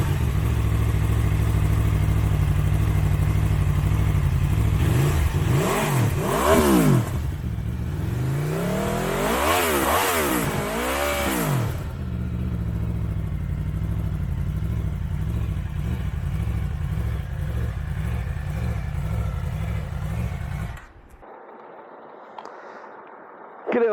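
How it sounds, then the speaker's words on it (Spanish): Aprilia RSV4 Factory 2023 motorcycle engine running close and loud, with steady idle broken by several sharp revving blips around the middle, then cutting off abruptly near the end. "vamos a ver qué tal suena esta moto"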